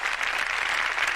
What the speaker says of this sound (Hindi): जगमोहन जी एक बार जोरदार ताली इनके लिए।